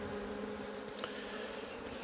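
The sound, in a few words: honey bees buzzing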